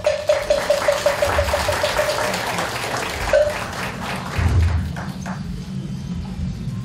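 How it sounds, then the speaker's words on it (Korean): Audience applause fills a hall during a Buddhist memorial service, a steady wash of clapping at moderate distance, with a brief repeated tone and a low thump partway through. "모두 큰 박수로."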